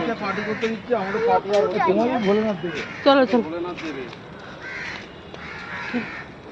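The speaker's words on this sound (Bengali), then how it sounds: "এই গাছটাতে কত কাক দেখেছিস" Crows caw from a tree along an outdoor walk near Vidyasagar Setu, their harsh calls mostly buried beneath nearby talking and rising briefly in a few short bursts.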